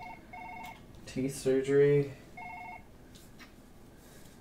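A telephone rings in the Surgeon Simulator VR game: short repeated electronic trill bursts, fairly faint, interrupted by someone talking over them.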